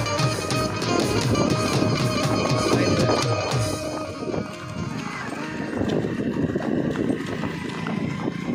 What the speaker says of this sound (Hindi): बहुत ही अच्छा चलता है घोड़ा